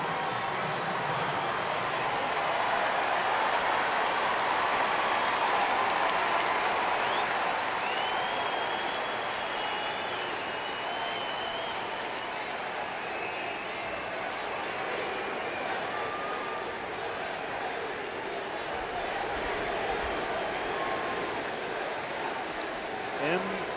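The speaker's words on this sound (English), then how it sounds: "MVP chants swelling among this crowd." Baseball crowd at a Chicago Cubs versus Milwaukee Brewers game chanting MVP for Kris Bryant at bat, a loud sustained roar of many voices filling the ballpark, with a few whistles riding on top.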